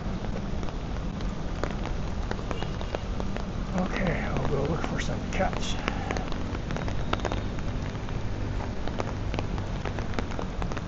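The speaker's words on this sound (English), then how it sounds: "Not too much rain, so it's not flooding them out." Steady rain falling straight down with no wind in a park, a dense continuous patter on surfaces all around, with someone talking over it.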